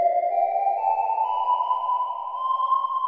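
A sustained electronic synth lead made of two pure, slightly detuned sine waves through a fully resonant peak filter with drive glides slowly upward in pitch, steady and clean with no other sounds.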